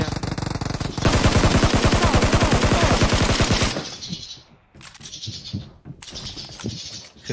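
Rapid automatic gunfire from a shooter video game rattles in a long, dense burst, then gives way to a few short, sharp shots separated by pauses.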